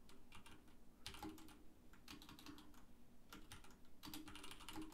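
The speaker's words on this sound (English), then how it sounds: "I type in my third question." Keys clatter on a computer keyboard as a question is typed, coming in short quick bursts with brief pauses between them, close and fairly quiet with no talking.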